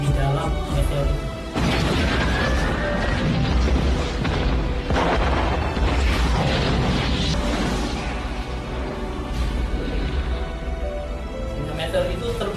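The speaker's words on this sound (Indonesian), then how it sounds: "Bom nuklir itu meledak di dalam meteor itu." A film-style nuclear bomb detonating inside a meteor erupts in heavy low booms and crashing rumble, with a sudden surge partway through and a sustained roar underneath, mixed with dramatic effects and some voices.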